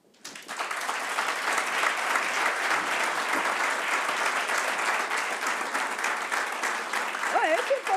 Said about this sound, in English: I should have a thermometer to register the heat of the applause.